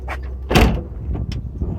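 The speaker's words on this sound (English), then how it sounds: "All right, let me close this door." Someone pushes shut the door of a 1980 AMC Spirit GT sitting in a junkyard, making one dull metallic thump that fails to latch, followed by faint rattles.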